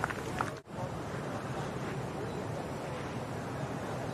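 Ocean surf roars continuously at the Backdoor break on Oahu's North Shore during a WSL Finals contest, a dense wash of breaking waves and wind noise with one brief dropout near the start.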